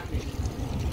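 A fishing boat engine churns low and steady at a marlin tournament near Portland, a continuous rumbling drone with water wash over it, close and fairly loud.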